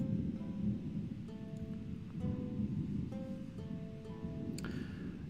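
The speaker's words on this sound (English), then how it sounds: "That's thunder. I hope it's not storming." Thunder rolls low and steady through a windy, cold storm, joined by faint tonal ringing and a sharp crack near the end, with no voices.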